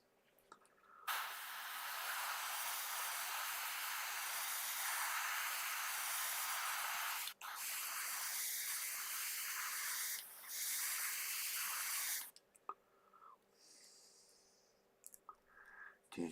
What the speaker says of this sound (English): I want to protect everything while I'm spraying.